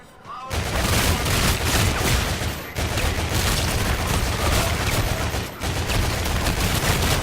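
Volk-Retro gun firing in Call of Duty: Infinite Warfare zombies, a dense continuous burst of rapid loud gunfire that roars almost unbroken for several seconds, with two brief pauses between sustained volleys.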